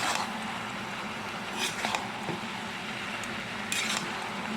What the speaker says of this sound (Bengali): এটা দিয়ে আবার ভালো করে নেড়ে চেড়ে দিই